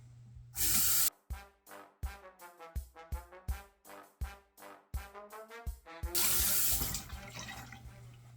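Tap water runs in bursts to rinse a Yaqi Excalibur razor during a shave, opening with a loud stream, then about a dozen short rhythmic splashes and taps as the razor is swished, before a steady flow returns at the end.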